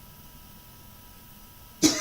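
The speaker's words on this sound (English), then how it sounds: "Coughing." During a quiet early-morning taiji session, a single short cough bursts out near the end after a quiet stretch of low background hiss.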